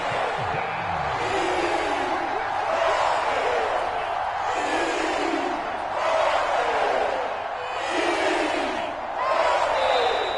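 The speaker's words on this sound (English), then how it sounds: "The crowd getting into it as we come up on a big 3rd down." Football stadium crowd roaring and cheering ahead of a big third down, a dense, sustained wall of distant voices that swells and ebbs in waves throughout.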